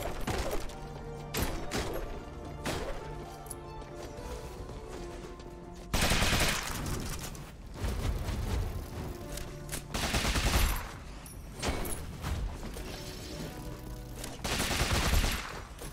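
Rapid gunfire and mechanical weapon sounds from the video game Rogue Legacy 2 play in repeated bursts, with sharp cracks and clattering layered over constant game music.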